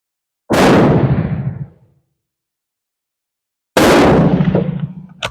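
Two loud rifle shots from a Carcano cavalry carbine fired through a scope on a range, each a sharp blast with a long decaying echo, spaced about three seconds apart, with no talk.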